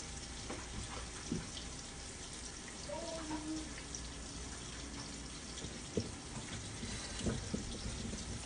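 Tap water runs steadily into a sink while rainbow trout are washed, a soft continuous hiss with occasional faint clinks and knocks close by.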